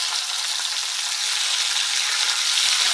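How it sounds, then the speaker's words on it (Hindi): Onions frying in hot oil with whole spices for a masala khichdi, a steady loud hiss and crackle of sizzling that runs unbroken throughout with no talking. "अब मैं इसमें ऐड करूंगी ऑनियन और इसे हम गोल्डन ब्राउन होने तक भून के तैयार करेंगे।"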